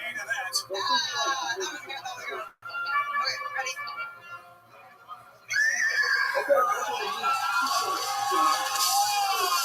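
A person imitates a horse's neigh with a loud, quavering whinny that rises and falls over several seconds, surrounded by chatter and reactions from others in a studio setting.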